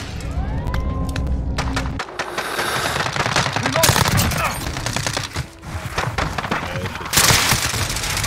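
Rapid automatic gunfire and single shots in Call of Duty Modern Warfare, dense bursts with thuds and clatter running throughout, loud and close, with brief gaps between volleys.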